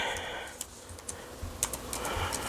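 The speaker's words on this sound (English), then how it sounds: "I got to start typing in stuff" Typing on a computer keyboard, a scattered series of light clicks and taps at an uneven pace, close and fairly quiet over a faint background.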